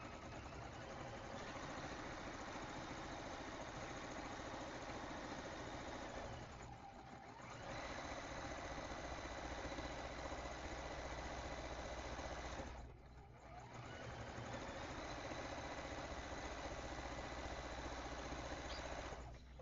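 A quilting machine stitches around the edges of a charity baby quilt, its steady rapid needle hum running continuously apart from two brief pauses, with no talking.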